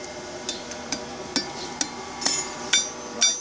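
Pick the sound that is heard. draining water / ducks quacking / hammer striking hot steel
hammer striking hot steel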